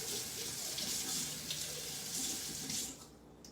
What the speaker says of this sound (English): All right, gotta rinse off my blade.